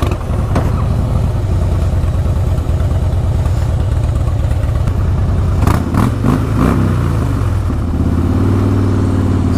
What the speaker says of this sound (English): we're gonna go on a ride with the Caddy.